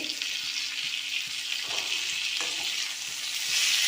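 Tomato, mint and coriander sauté in a pan for a mango chutney. There is a steady, close hiss of frying with faint stirring scrapes, and no talking.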